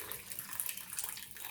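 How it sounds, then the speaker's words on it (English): Hot boiling water pouring from a flask into chocolate cake batter, a short soft steady trickle close by, fairly quiet and without any talking. "So I'm going to add hot water, and I have water in my flask."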